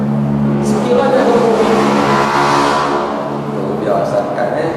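A lorry driving past on a road close by, a loud, steady engine rumble that rises and then eases off slightly as it passes.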